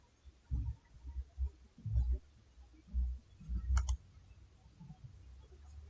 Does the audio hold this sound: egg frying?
no